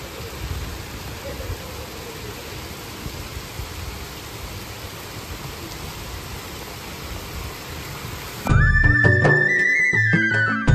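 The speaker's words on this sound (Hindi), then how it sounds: "बाहर बहुत तेज़ बारिश हो रही है" Heavy rain pours steadily outside, a dense continuous hiss, then it cuts to a brief burst of tonal electronic sound at the end.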